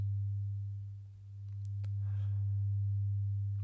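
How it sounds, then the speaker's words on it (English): Soft, steady low tone sustained throughout a guided sleep story, dipping briefly near the middle, with faint airy shimmers and a light chime-like glint above it, calm and unbroken with no voice. "you might sense those tones passing softly through you"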